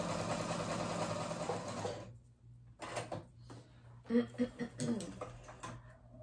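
A sewing machine runs in a steady, close burst gathering a dress ruffle, then stops and gives way to quieter handling clicks and soft bumps of fabric and parts.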